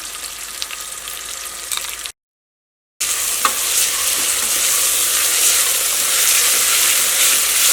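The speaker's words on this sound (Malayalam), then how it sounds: "ഇനി ഇത് നന്നായിട്ടൊന്ന് വഴന്ന് വരട്ടെ" Onions sauté in a pan for potato curry, giving a loud, close, continuous sizzle with stirring scrapes and a brief gap of silence partway through.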